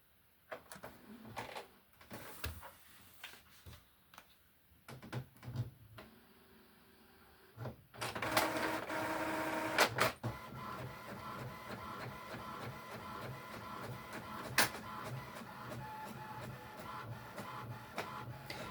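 A home printer starts with a few clicks and whirs, then runs steadily, feeding and printing an image onto an 8.5 by 11 inch muslin fabric sheet with a continuous mechanical hum and occasional clacks.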